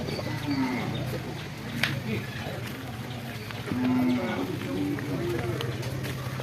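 Low buffalo moos rise twice over a busy outdoor crowd at a Sunday livestock market, with people talking throughout and a sharp clack partway in.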